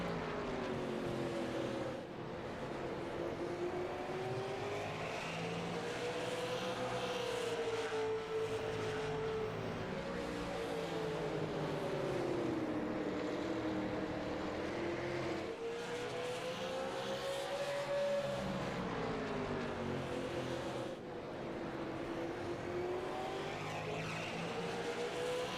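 ASRL late model race cars roar around the Myrtle Beach oval in a steady, loud engine drone whose pitch rises and falls as the pack passes, continuing without break.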